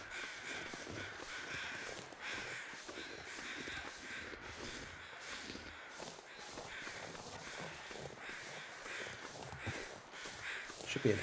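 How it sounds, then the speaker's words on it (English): Crows caw repeatedly in the snowy wilderness of the video game The Long Dark, several harsh calls spread through a continuous windy ambience. "Birds are circling somewhere."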